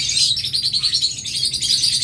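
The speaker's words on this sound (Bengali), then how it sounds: "এই ককাটেল পেয়ারটা নেবেন একদম মাস্টার পেয়ার ডিম করা পাখি কিন্তু অ্যালবিনো রেড আই" A breeding pair of albino red-eyed cockatiels calls continuously, with dense, high chattering and chirping up close that never pauses and carries no voices.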